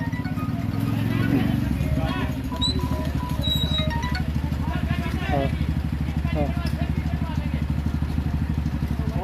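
A tractor engine chugs steadily on a potholed road, a loud, low, continuous rumble throughout with faint background sounds above it.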